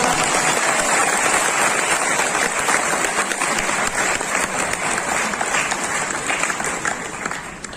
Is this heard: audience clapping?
yes